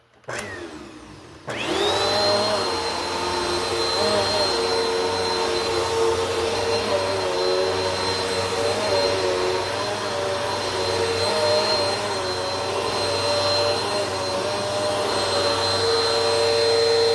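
A small Bissell vacuum cleaner switches on after a brief quiet start and runs loud and steady with a high motor whine, close by and without talk.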